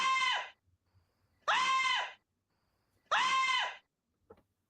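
Three loud, drawn-out screams come in evenly spaced bursts about a second and a half apart, each cutting off into silence, with a faint short cry at the end.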